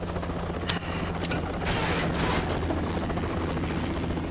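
A helicopter in the video game Metal Gear Rising: Revengeance, a steady loud rotor drone filling the scene with a sharp crack near the start and a rising whoosh in the middle.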